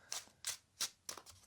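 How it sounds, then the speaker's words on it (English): A deck of playing cards given a quick, loose classic shuffle: four crisp riffling bursts, each brief and close, spaced evenly apart in a quiet room. "We'll just give them a quick classic shuffle."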